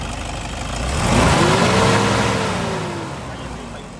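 A car engine revved in a workshop, with a heavy noise from a worn fan clutch: a loud, close, steady roar that swells into a rising whine and slowly falls back toward idle.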